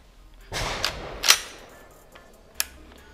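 A Karat 12/70 slug fired from an Ata Arms Neo 12 shotgun gives a sharp report with a rumbling echo tail, followed by a brief metallic click.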